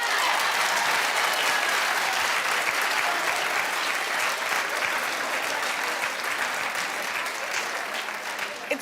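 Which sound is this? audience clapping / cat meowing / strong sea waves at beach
audience clapping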